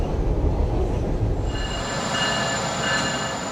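Freight train rolling past close by with steady rumbling wheels on rail, then high, sustained wheel squeal rising over the rumble partway through, with no voices.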